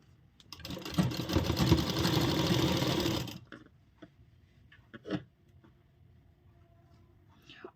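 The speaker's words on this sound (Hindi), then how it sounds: "और इस पूरे लेस को हम सिल लेंगे" A sewing machine runs in a steady, loud burst of stitching for about three seconds while sewing lace onto an umbrella frock, then stops, leaving faint handling clicks and rustles.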